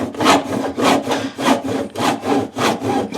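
A hand saw cuts about half an inch off a faucet drain pipe in rhythmic back-and-forth strokes, roughly six even rasping passes, close and clear with no talking.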